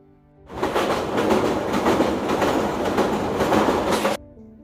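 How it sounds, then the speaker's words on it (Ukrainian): A train rumbles past at close range with a steady roar and rhythmic clacking of wheels on rails, rising in quickly and cutting off. "потяг."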